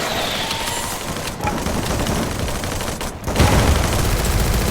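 Gunfire in the video game Free Fire: dense, rapid bursts of shots crackle continuously, growing heavier and louder toward the end.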